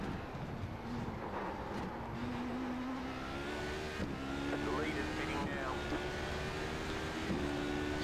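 Race car engine droning steadily through a sim-racing lap in iRacing, with rear tyres spinning up on a left-hand kink over dirt and gravel; the engine note holds loud and continuous, shifting pitch as it revs.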